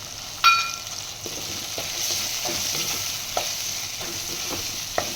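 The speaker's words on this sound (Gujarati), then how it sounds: "અને માટે નાખીએ બાફેલી તુવેરના દાણા આપણે બોઇલ કરીને રાખ્યા છે." Boiled pigeon peas tipped into a frying pan for a Gujarati olo rotlo dish, followed by a sharp clack and then repeated spoon scrapes and stirs over a steady, close sizzle, no voices.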